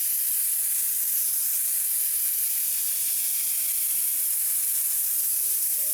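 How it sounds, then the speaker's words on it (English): Paint sprayed onto a Chanel leather bag during restoration, a steady, unbroken close hiss that runs without pause, with no voices. "I spray them."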